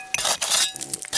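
Small glass jars clink and knock together as they are dug out of an old bottle dump, several quick, close, bright chinks within a second.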